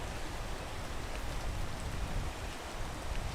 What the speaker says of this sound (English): I'm gonna wait for it to stop raining.